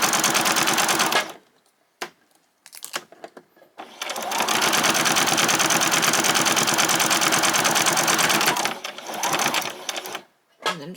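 A sewing machine runs in loud sustained bursts for a few back and front stitches while sewing a summer outfit, with short pauses between runs and no talking.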